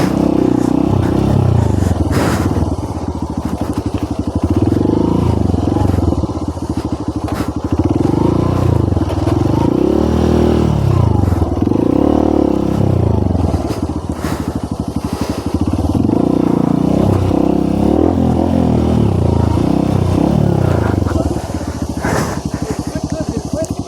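A Honda CRF150L Rally motorcycle rides off-road on dirt, its engine droning loud and continuous with rising and falling revs throughout, while riders talk over it.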